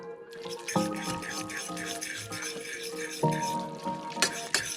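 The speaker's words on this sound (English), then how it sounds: "And then this gets stirred." Malaysian chili pan mee instant noodles with fried chilies are stirred in a pan, with close, continuous wet scraping and sizzling and a few louder clanks.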